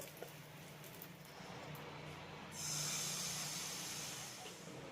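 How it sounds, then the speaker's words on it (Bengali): Egg paratha frying in hot oil gives a low, continuous hiss that swells louder midway and then holds steady, with no voices. "এইভাবেই বাদ বাকি পরোটাগুলোকে আমি সব ভেজে নেব"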